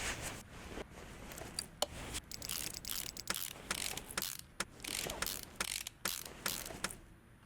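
Engine bolts on a supercharged widebody Camaro SS being ratcheted down in Car Mechanic Simulator 2018, heard as a quick series of sharp mechanical clicks and clacks. The bursts are close and come in uneven runs, with no talk over them.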